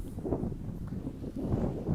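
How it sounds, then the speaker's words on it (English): Wind buffets the microphone on a beach in low, rumbling gusts that rise and fall, with nothing else standing out. "I am hoping that it's not sounding too windy here for you, as I am on the beach."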